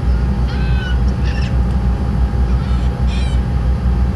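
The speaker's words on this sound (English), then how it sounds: "I love seagulls." Seagulls calling outdoors by the water, a few short squawking cries over a steady low background rumble, no talking.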